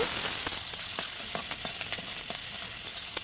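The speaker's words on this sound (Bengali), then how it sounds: "ফোড়নে হচ্ছে কালো জিরে আর পেঁয়াজ কুচি, লঙ্কা কুচি একটু নাড়িয়ে চাড়িয়ে লাল লাল করে নিব" Continuous hissing sizzle of onion, green chilli and nigella seeds frying in a pan, close up, with regular light scrapes of a spatula stirring through it.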